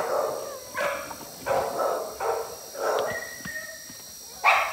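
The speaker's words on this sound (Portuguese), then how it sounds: "é um cachorrinho." A four-month-old chocolate puppy yips and barks in a run of short, separate calls, fairly close and alone, with a few brief whimpering notes between the barks.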